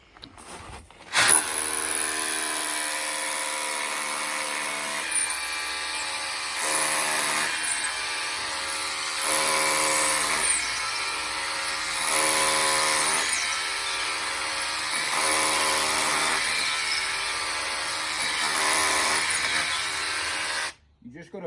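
A power drill works into concrete block with a sustained whining grind, pulsing in repeated surges as the bit is pumped in and out, close and steady for about twenty seconds.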